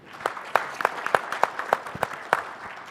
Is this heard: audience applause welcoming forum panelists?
yes